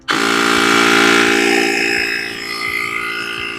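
A portable tire inflator compressor switches on abruptly and runs with a loud, close, steady whining buzz rich in tones, easing slightly as it keeps pumping.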